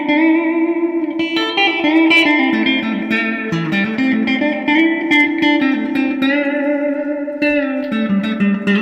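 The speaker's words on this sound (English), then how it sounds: "What does reverb at 5 sound like?" Guitar through a hand-wired Deluxe Reverb amp with reverb set to 5, continuous close strummed chords and single notes with a lush, washy reverb tail smearing each change, loud and steady throughout, with no talking.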